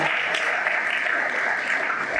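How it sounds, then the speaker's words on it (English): Continuous round of applause from an audience at a youth entrepreneurship conference, a dense, even clatter of many hands filling the room from start to finish. "Let's give her a round of applause."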